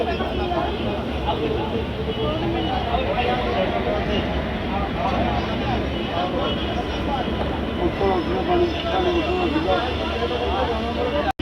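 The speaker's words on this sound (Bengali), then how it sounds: "এই যে মেমুটা আসছে না এই মেমুটা হলো খোর্দা রোড মেমু" A Khurda Road MEMU electric multiple unit train arrives at a station near Puri and Bhubaneswar, a steady loud rumble and hum running continuously throughout, with a person talking over it.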